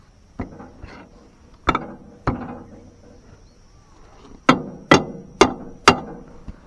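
Hammer blows strike while a tractor tyre is being changed. About seven sharp, separate knocks land irregularly, with a fast group of four near the end. They sound close and loud, with faint background noise between them.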